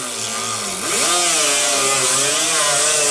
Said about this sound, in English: I don't want to grind that out because we won't be able to see where the spot weld is if you grind it all out